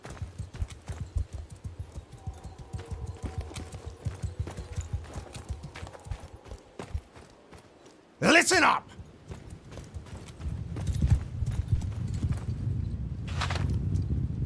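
Horses clatter in the Bannerlord video game with the Old Realms mod, a fast hoof rhythm under shouted orders, with a loud whinny bursting out midway and more hoofbeats and battle noise after it.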